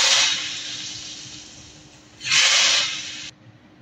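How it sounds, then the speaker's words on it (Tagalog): Heated cooking oil poured over spring onion sauce gives two loud, close sizzling hisses, one long rush at the start and a second burst later before cutting off. "And then ilagay natin yung pinainit na mantika."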